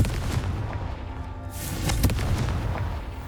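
A Confringo fire spell bursts in the Hogwarts Legacy video game, a dense booming explosion with a sharp crackling impact near the middle, rumbling on throughout at close range with no talk.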